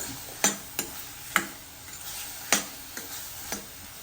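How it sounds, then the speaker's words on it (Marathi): Red chili powder with coriander and cumin masala sautés in a pan for alu fatfata, a faint sizzle punctuated by about eight sharp, irregular spatula taps and scrapes against the pan. "लाल तिखट हे थोडं परतून घ्यायचं"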